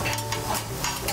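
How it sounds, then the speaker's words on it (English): Cooked potatoes and paprika are stirred in a hot frying pan, giving a loud, steady scrape and sizzle that runs without a break. "And you just kind of mix everything up."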